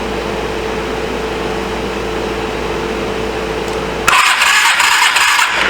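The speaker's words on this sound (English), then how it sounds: "we're spinning over good again" A Suzuki GS450A motorcycle engine cranks over with a steady, continuous starter churn, close and fairly loud, then the tone shifts abruptly to a harsher, brighter whirr for the last couple of seconds.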